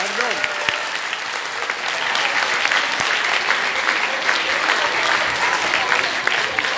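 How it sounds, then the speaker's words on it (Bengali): Sustained applause from a large audience at a school Teachers' Day celebration, a steady dense clatter of many hands filling the hall, fairly loud and continuous, with a brief bit of voice near the start. "সবাই করতালি দিয়ে মুখরিত করবে আমাদের।"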